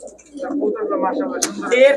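Pigeons coo steadily and close up in a low, throaty burble in a pigeon shop, with someone talking over the birds.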